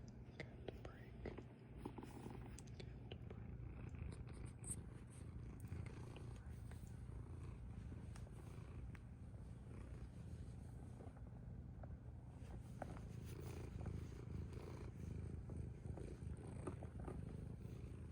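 A pet cat named Lily purrs close up in a continuous low rumbling drone that holds steady throughout, with faint soft background noise and no clear talking.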